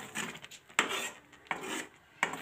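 A utensil scrapes homemade khoya (mawa) off the sides of a metal pot with the stove turned off. Three rasping strokes each begin with a sharp clank, close and clear.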